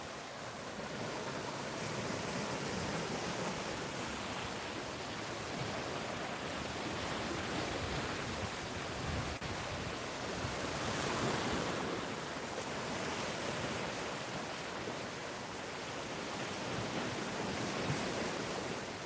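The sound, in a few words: ocean waves on the beach at Clearwater, Florida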